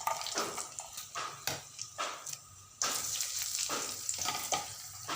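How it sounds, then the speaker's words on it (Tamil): Onions sautéing in oil in a pan for hotel-style sambar: a soft crackling sizzle that swells louder partway through, broken by scraping stirs, no talking. "வெங்காயம் போட்டு வதக்கும் வெங்காயம் போட்டு வதக்கிட்டு"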